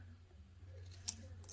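Scissors cutting a piece of card in half for a Halloween gnome card: a single brief, soft snip, faint over a steady low hum, no talking.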